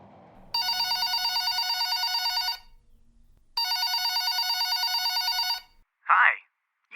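A telephone rings twice in long electronic trills separated by a pause, clear and alone, before a short beep-like tone signals a voicemail picking up.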